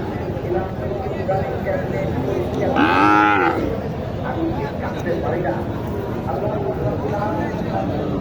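A cow gives one loud, drawn-out moo at a busy cattle market in Naogaon, Bangladesh, where Sahiwal and improved-breed heifers are sold. Steady crowd chatter and voices fill the background throughout.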